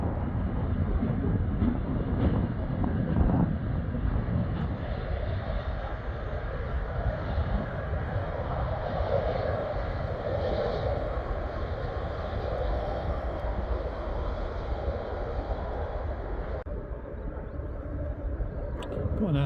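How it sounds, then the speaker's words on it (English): Airbus A300 cargo plane taxiing at Stansted Airport, its engines a steady, moderately loud broadband roar with a low rumble that holds throughout. "Got an Airbus A300 taxiing round, cargo plane."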